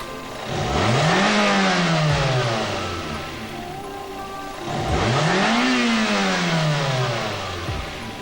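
A Toyota car engine revs hard twice as the throttle valve is snapped fully open, each rise followed by a slower fall back toward idle, loud and close with no talk.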